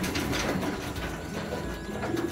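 Low, soft pigeon coos murmur through a dense, steady background of rustling and ambient noise in a loft, several birds overlapping close by.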